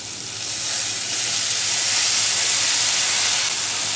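Chopped water lily stems hit a hot pan and erupt into a loud, steady frying hiss that swells within the first moment and holds close and unbroken, with no voices.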